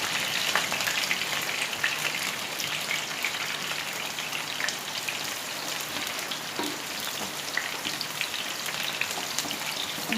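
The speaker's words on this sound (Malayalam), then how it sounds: "ഇതിലേക്ക് ഞാൻ പച്ചമുളകും വേപ്പിലയും ഇട്ട് കൊടുക്കാമേ. പൊട്ടിത്തെറിക്കും." Green chillies and curry leaves fry in hot sunflower oil for a chicken fry recipe, a dense, steady crackling sizzle with scattered pops that holds evenly from start to finish, no talking.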